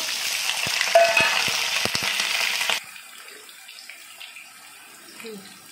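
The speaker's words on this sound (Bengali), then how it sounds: "আমি আলুটাকে ভেজে নেব।" Potatoes frying in white oil in a pan, a loud bright sizzle with clicking stirs that drops abruptly to a faint crackle halfway through, no talking.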